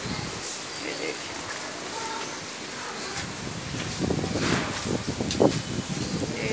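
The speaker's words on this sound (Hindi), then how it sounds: "ये देखिए शुरू हो गई हवा चल रही है, अच्छी तेज चल रही है।" Steady broadband wind noise rushes throughout, growing gustier and louder in the second half, with leaves rustling and occasional buffeting against the microphone.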